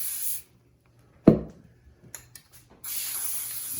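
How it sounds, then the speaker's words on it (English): Cooking spray hisses onto aluminum foil lining a baking sheet for shrimp, with short spray bursts between quieter moments and a longer spray at the end, close and fairly loud. "I'm just going to go ahead and spray the aluminum foil so the shrimp doesn't stick"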